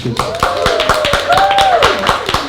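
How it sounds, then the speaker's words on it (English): An audience claps in a round of applause at a conference session, steady hand claps throughout with a voice speaking over them. "Can we give Oliver a round of applause?"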